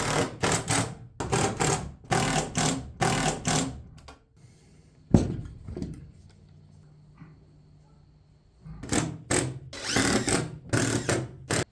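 Impact driver or drill driving screws to mount an electrical sub panel in a barn, several rapid ratcheting bursts, a quiet pause with a single knock, then more ratcheting bursts close by.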